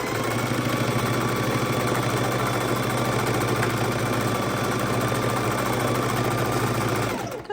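A sewing machine stitches straight across an art roll, its motor running in a steady, continuous whir with rapid needle chatter, close and loud throughout with no talking.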